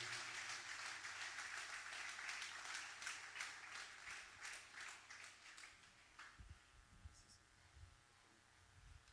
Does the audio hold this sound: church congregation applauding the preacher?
yes